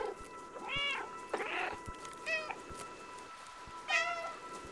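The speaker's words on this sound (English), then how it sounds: "I'm just gonna keep meowing." A cat meows repeatedly in the Stray video game, four or five distinct mewing calls spaced a second or so apart over faint ambient game background.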